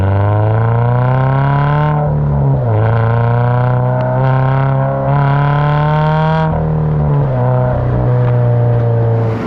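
A car with a loud aftermarket exhaust drones steadily close by, its deep engine note shifting pitch as it accelerates and eases off along a street, with no talking.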